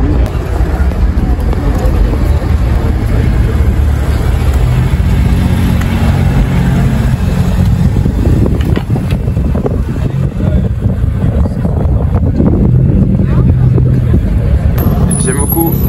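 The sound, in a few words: white Alpine sports car engine, very loud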